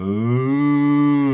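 A child imitates a cow, giving one long, loud, steady moo that holds a single pitch for over a second, heard alone without other talk.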